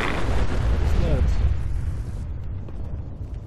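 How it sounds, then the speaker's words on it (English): A legendary enemy explodes in the video game Fallout 4 with a loud, close, rumbling blast that rolls on and slowly fades. "I think it might actually explode twice."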